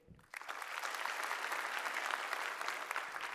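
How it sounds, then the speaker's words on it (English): Live audience at a TED talk bursts into sustained clapping, a thick, uniform wash of many hands that holds steady from just after the start to the end. "Clap your hands if you think this is fake."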